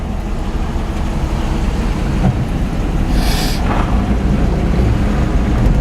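A 1965 International vehicle cruising with its foot off the gas, a steady low engine and road rumble that holds throughout, with a brief hissing swell near the middle.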